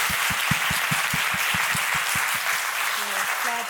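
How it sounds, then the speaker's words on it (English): Audience applause for a theatre directing team after a performance of Hamlet by the National Theatre of Craiova, steady dense clapping filling the room, with a voice coming in near the end. "So if we may have another round of applause for"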